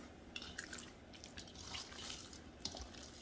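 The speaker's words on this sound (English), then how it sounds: "Let me wash my hands." Tap water runs softly over hands being washed at a kitchen sink, with faint drips and splashes at low level and no voices.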